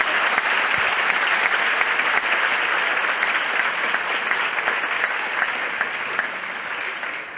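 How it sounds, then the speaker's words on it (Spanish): Audience applause at a live improv comedy show, a dense, steady wash of many hands clapping that stays loud for the whole stretch and eases off slightly near the end. "Aplauso para el señor."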